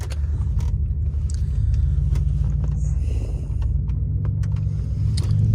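A straight-piped Pontiac Bonneville GXP drives along, its exhaust a deep, steady loud rumble with slight rises in revs, heard from inside the car without talk.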